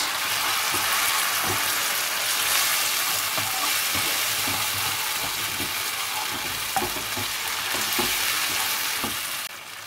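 Chilli chicken frying in a pan with chilli-garlic sauce, tomato sauce and hot red chilli sauce, giving a loud, continuous close sizzle with frequent scraping stir strokes throughout.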